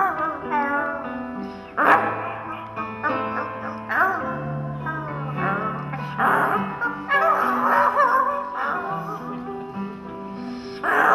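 Voices imitate wolves howling under a full moon, rising and falling in long drawn-out calls that overlap one another, loud and close throughout.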